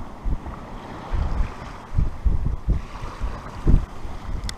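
A sailboat under way with a reefed genoa at about six knots, wind buffeting the microphone in gusty bursts over the rush of water along the hull, close and loud, with no talking.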